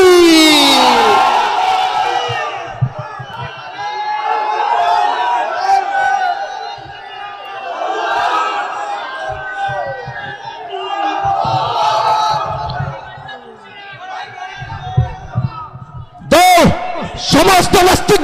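A huge rally crowd on the Charmonai ground in Madaripur roars the takbir chant in loud massed waves of shouting, answering a leader whose amplified voice calls out between the bursts.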